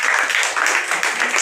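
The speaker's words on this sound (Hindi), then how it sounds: "इन सबके लिए तालियां।" Applause from a school classroom full of students, a dense, steady patter of many hands clapping close by for about a second and a half.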